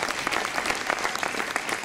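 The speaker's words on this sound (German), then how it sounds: "Ein Applaus." At an organic retail award ceremony at a trade fair, a crowd gives a brief round of dense, lively applause for a gold-winning organic shop.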